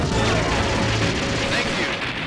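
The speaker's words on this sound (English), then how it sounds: "Heavy machine gun." A heavy machine gun in the Metal Slug 6 arcade video game fires a dense, loud burst of rapid shots amid crashing game effects, sustained throughout the short span.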